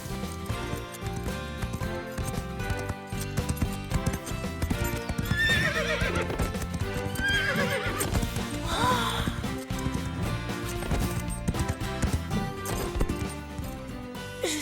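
Horses clip-clopping and neighing in a cartoon, hoofbeats and whinnies mixed under a dense, continuous music score throughout.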